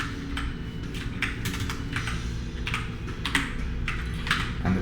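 Steady, rapid keyboard typing with clustered key clicks and occasional heavier taps, close up against a low background hum.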